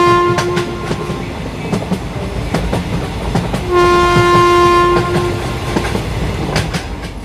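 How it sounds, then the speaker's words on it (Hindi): A cartoon train rumbles along with steady clickety-clack and loud sustained horn blasts. The tones repeat in a near, continuous run with no voices. "कुछ ही देर में ये ट्रेन एक सुनसान इलाके में रुक जाती है।"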